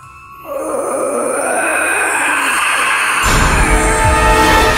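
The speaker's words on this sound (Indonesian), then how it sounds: "mendengar suara geraman di headphone-ku" A ghostly moan or growl coming through headphones in a recording studio, a drawn-out wailing groan that swells and grows louder over a few seconds, heard alone with no talk.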